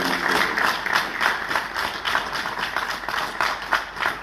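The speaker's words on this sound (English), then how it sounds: "I request we give another round of applause to Marshal Jula and General Tadesse" Sustained audience applause at a peace agreement signing ceremony in Nairobi, Kenya, a crowd clapping steadily throughout, moderately loud.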